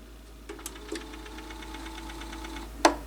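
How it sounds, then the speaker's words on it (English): A Yamaha PX3 linear tracking turntable motor runs with a fast, mechanical ticking whir over a low steady hum, punctuated by a few soft clicks and a louder clunk near the end. "this is actually kind of a noisy linear tracker"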